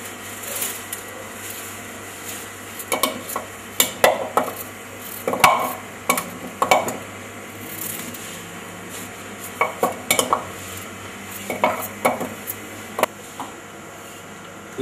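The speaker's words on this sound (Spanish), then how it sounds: "Luego vamos troceando la papa en cubos. Y ubicándola en la cacerola para su posterior hervido." Potato is chopped into cubes on a board and dropped into a cooking pot, a run of sharp knife taps and clattering knocks in irregular clusters, close and fairly quiet, with short pauses between bursts.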